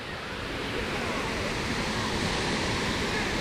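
Waterfall at a beach in Lila, Bohol, a continuous broadband rush of falling water, loud and steady, with some wind against the microphone and no clear speech.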